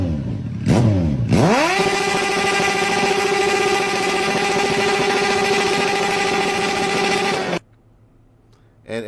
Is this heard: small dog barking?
no